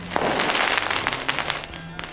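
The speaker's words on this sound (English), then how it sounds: "Fireworks banged behind St Mary's Church" Fireworks crackle and bang behind St Mary's Church at midnight on a mild winter's night in 1999, a dense, loud, continuous rattle of rapid pops filling the air, with no voices.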